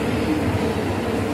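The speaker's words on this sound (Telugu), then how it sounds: "గోల్కొండ ఎక్స్ప్రెస్ అయితే వెళ్ళిపోతుంది." The Golconda Express rolls out of Warangal railway station, a faint, steady rumble of wheels and carriages carrying on evenly without pause.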